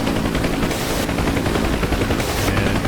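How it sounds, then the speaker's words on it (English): Helicopter door gunners fire machine guns in the flight game DCS, a loud, steady, rapid burst of gunfire that continues throughout, with a heavy rotor-like rumble beneath and no talking. "that's what the gunners are shooting at"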